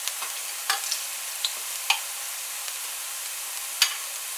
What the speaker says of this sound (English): So you're gonna let your onions fry for about 30 seconds or so.